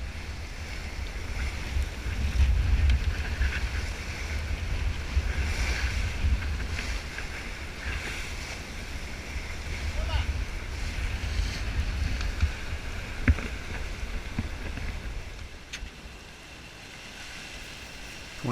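A sailboat on an open-ocean passage from Bora Bora to Kaneohe, with a steady rush of water and waves along the hull and constant wind buffeting the microphone, loud and continuous throughout with no voices.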